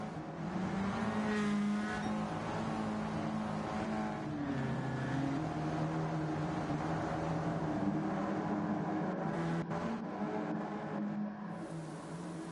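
CASCAR stock cars race around the Tsukuba Grand Prix circuit in Gran Turismo 7, several engines droning and shifting pitch together in a loud, steady roar that continues without pause.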